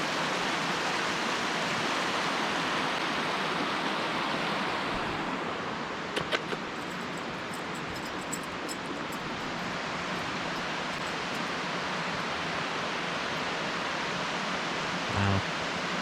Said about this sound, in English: I'm just good with the creek.